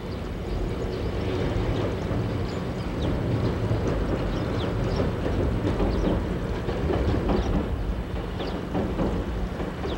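An Enoden electric train on the Enoshima line runs steadily close by, with a continuous rumble, wheel clatter and faint rhythmic clicks of the rails throughout, with no talking.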